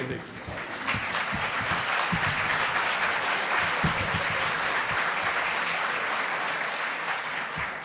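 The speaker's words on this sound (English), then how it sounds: "I think he deserves a round of applause." Sustained round of applause from a large audience at an LSE public lecture on progressive politics, dense steady clapping filling the hall for several seconds with faint voices underneath.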